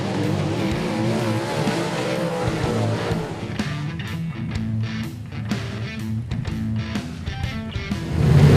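A race car spins out on a dirt track, its engine roaring loudly and steadily with tire noise and revving surges throughout, rising toward the end.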